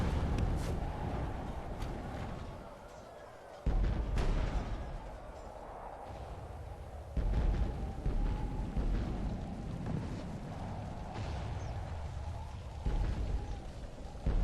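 Heavy cannon, mortar and artillery blasts boom repeatedly over a continuous rumbling battlefield din in a Medieval II: Total War game, several sharp loud impacts spaced a few seconds apart.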